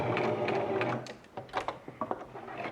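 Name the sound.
sewing machine back stitching fabric mask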